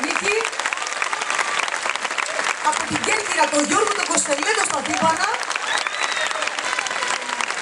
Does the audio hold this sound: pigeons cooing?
no